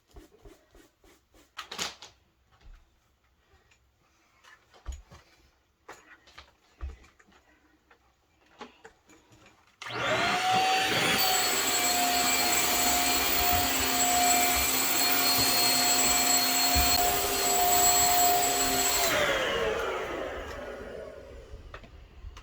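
A vacuum cleaner switches on after quiet household clatter and runs loud and steady for about nine seconds at close range, cleaning up a mess on a home floor, then powers down.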